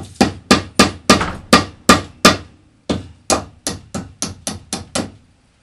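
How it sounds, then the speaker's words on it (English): Hammer blows strike hard and close in a steady, regular series of about fifteen sharp knocks, each ringing out briefly, with one short pause partway through and no talking. "I'm hammering."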